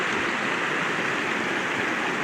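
Steady rushing of flowing creek water on the Julie Creek trail near Lowman, Idaho, close and continuous, with no voices.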